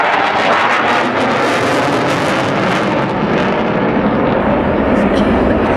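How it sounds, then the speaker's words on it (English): Eurofighter Typhoon jet roaring past with afterburners lit at a Scottish air show on Ayr beach, a loud, continuous broadband thunder filling the whole stretch without pause. "that's how much thrust and how much force is pushing that jet through the sky"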